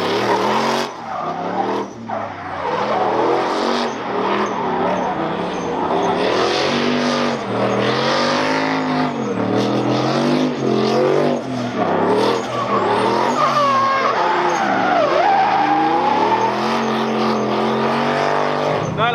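An M60 turbo engine revs hard on dyno rollers, a loud, continuous roar that rises and falls in pitch as it winds up repeatedly, with a harsh rasp throughout and a few faint voices underneath.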